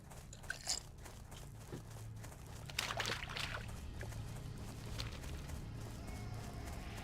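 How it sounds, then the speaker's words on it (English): Ice crunches close to the mic in quick, crisp bursts of chewing, several loud bites early and mid-way, then softer grinding under a steady low hum. "Sorry for the crunching of ice."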